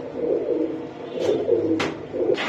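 Pigeons, including Budapest, Spanish pouter and Giribaz breeds, coo softly in a few low, rolling phrases nearby, with occasional sharp wing or feather flicks between calls and no talking.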